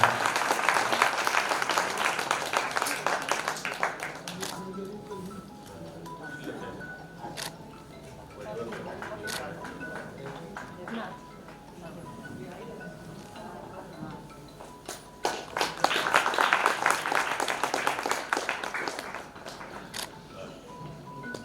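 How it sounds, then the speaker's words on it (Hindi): Applause at an Arya Samaj gathering in Barh, a crowd clapping in bursts, heavier at the start and again near the end, with some talk and background noise between. "जोरदार तालियों के साथ में उनका"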